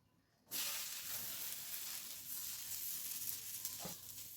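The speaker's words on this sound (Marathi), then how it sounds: "थालपीठ घालूया त्याच्यावर" Pohe thalipeeth hits a hot oiled tawa and sets off a sudden, steady sizzle that keeps going close and even, with a short crackle near the end.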